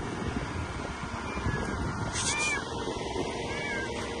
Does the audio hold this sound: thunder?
no